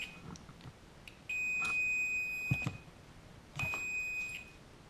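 Two long, high electronic beeps from a wire tester checking a Midland 77-095 radio, separated by a short pause, clear and close, over a quiet background with a few soft clicks.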